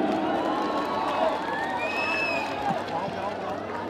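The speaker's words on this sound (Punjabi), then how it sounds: "ਜ਼ੋਰਦਾਰ ਤਾੜੀਆਂ ਪਲੀਜ਼।" A college crowd at a Punjabi film song promotion event cheers and claps for the cast, a dense continuous roar of voices and applause with scattered whoops, loud and close throughout.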